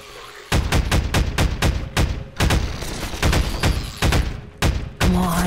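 Rapid bursts of gunfire from the video game Half-Life 2, loud and close, with sharp repeated shots in quick clusters and short pauses between volleys.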